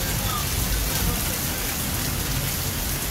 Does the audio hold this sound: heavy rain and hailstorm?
yes